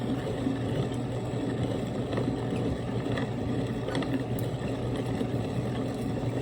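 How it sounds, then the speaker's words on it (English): A hand-cranked grinder turning dried peppers into powder, giving a continuous low rumbling, grinding drone that holds steady and fairly loud close by throughout, with no talk. "we just turn the wheel and it grinds the peppers up and creates a powder"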